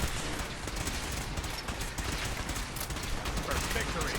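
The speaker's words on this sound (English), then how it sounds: "Taking fire!" Gunfire crackles through a video game battle, a dense and steady wash of shots and noise running throughout at moderate loudness, with game voices mixed in.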